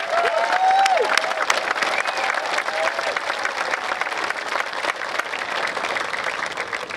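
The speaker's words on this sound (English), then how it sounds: "Please feel free to applaud each student as they are recognized." A crowd applauds a graduating student recognized at the Delaware Valley Regional High School commencement, with dense, continuous clapping and some cheering, strongest at first and holding steady to the end.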